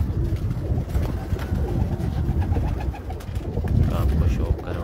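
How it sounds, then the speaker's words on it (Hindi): Flying pigeons on a rooftop coo in soft, repeated low calls, close and continuous, with scattered background noise and faint voices mixed in. "परवाज़ी कबूतरी हैं"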